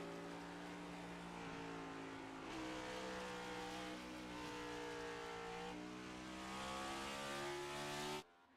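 A NASCAR race car in a sim racing game at Watkins Glen brakes and downshifts into a chicane, its engine tone dropping and rising through gear changes in a loud, continuous drone with no talk, cutting off abruptly at the end.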